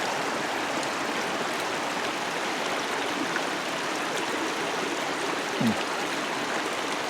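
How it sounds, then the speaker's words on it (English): A small mountain creek flowing into a bigger creek on a hiking trail in Kananaskis, Alberta, producing a steady close rushing and babbling of water, broad and unbroken, with a brief faint chirp near the end. "I reached the intersection of the small creek with a bigger creek."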